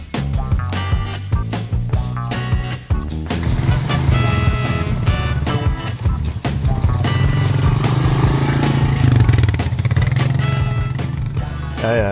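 A Royal Enfield Himalayan motorcycle runs with a steady, thumping engine note that rises and holds loud and close, rough mechanical rumble throughout, with no talking.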